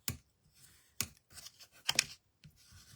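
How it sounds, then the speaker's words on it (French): A bone folder scores fold lines into card, making a series of sharp, close scraping strokes about every half second, each a dry crisp swipe with quiet gaps between them. "je vais venir marquer les plis au plioir"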